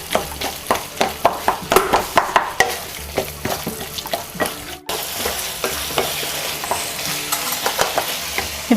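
A spoon stirs and mashes potatoes with garam masala in a hot pan for tawa pulao. Rhythmic scraping taps sound close and clear over a soft sizzle, and no one talks.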